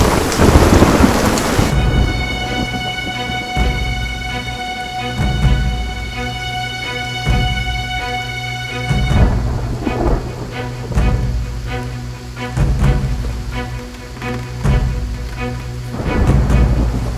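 A heavy thunderstorm with steady rain pattering on surfaces and repeated rolling thunder booms, loud and close, under a sustained musical drone with no talking.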